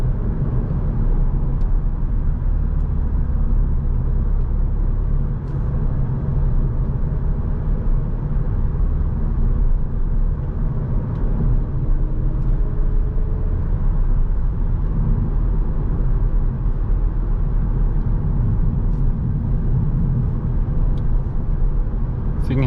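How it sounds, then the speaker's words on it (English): Steady low engine and road drone inside a 2020 Audi A3 Sportback 35 TFSI S Line with 150 HP, heard from the cabin while driving, loud and continuous throughout with no talk. "the car handles very well."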